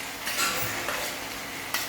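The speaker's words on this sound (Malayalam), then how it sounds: "ഇനി മിക്സ് ചെയ്ത് വെച്ച സോസ് ഇതിലേക്ക് ഒഴിച്ചു കൊടുക്കുക" Mixed sauce poured over fried rice in a hot frying pan hisses briefly, and a couple of soft utensil scrapes and clinks follow close by.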